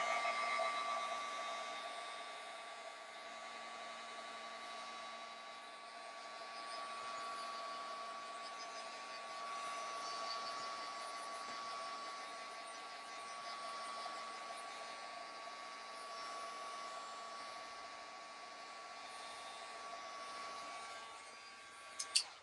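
A heat tool or dryer drying a mixed media craft tag, giving a steady, close whirring drone with a constant electric hum that runs unbroken throughout, alone without talk.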